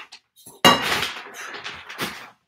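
Sand spooned into potting mix for repotting plant cuttings: a sharp metallic clink as the spoon strikes, followed by a gritty pouring rustle and a second softer scrape and tap.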